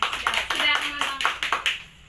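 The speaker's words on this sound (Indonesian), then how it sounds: "Kita berikan tepuk tangan dulu untuk kalian." Students in a classroom applaud briefly, a brisk patter of hand claps at moderate volume that fades out after about two seconds.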